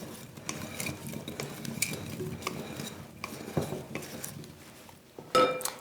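Vegetables being tossed with cracked black pepper for roasting, giving a series of soft scraping and clattering knocks against a bowl or pan at an uneven rhythm, fairly quiet.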